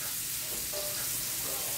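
Sausage with spinach frying in a pan, a steady close sizzle with soft crackles throughout and no talking.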